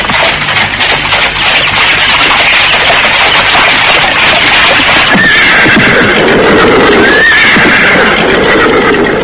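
A delman, a horse-drawn carriage, passes close with a horse neighing loudly and hooves clip-clopping, all under a dense, constant wash of noise.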